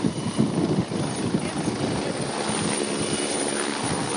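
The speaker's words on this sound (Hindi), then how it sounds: "यही ये अगुस्ता का हेलीकॉप्टर है, बहुत सुरक्षित समझा जाता है।" Agusta helicopter ahead of a Kedarnath visit in Uttarakhand, a loud, steady rotor and engine roar filling the whole stretch with a dense broadband wash and low thudding beats, no talk over it.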